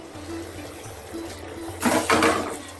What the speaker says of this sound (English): I'm just going to wash this off with a little bit of water.